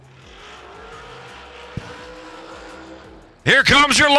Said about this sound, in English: Here comes your longest skinny cars.